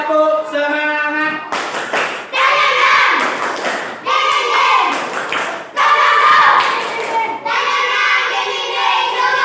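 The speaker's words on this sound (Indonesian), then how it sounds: "tepuk semangat" A classroom of children performs a rhythmic spirit clap, tepuk semangat, with patterned bursts of clapping mixed with their voices chanting along, close and lively.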